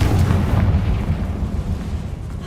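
A Confringo blasting spell explodes in Hogwarts Legacy, a loud rumbling low-heavy blast that rolls on as a sustained boom for the whole moment, with no voices over it.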